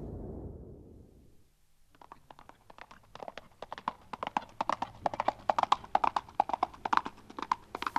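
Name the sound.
small horse galloping on the steppe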